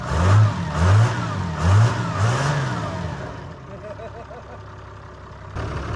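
A car engine with every exhaust seal blown revs hard in repeated loud bursts during a burnout competition, then drops to a rough, popping idle; talk is heard over it.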